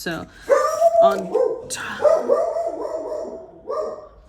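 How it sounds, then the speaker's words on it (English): A dog indoors barks in a series of loud, close, yelping barks and whimpers, bursting out repeatedly across a few seconds, with a person briefly speaking nearby. "sorry, that's my dog"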